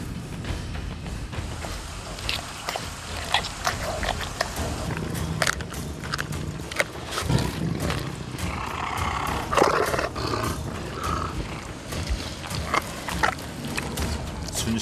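A Siberian tiger at a zoo tears into a whole chicken, with wet crunching bites and low growling roars running steadily through the feed, close and fairly loud.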